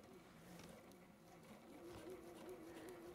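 Sewing machine stitching a rolled hem, a steady mechanical whir held at an even pitch throughout, fairly quiet with faint room noise behind it.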